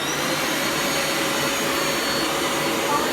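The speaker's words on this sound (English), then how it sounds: "you release your hand from the lever and it sucks up the water" A Bissell 2X Pet Pro Heat carpet cleaner sucks water back up from carpet, a steady, loud, close whooshing suction roar that holds unbroken from start to end with no talk over it.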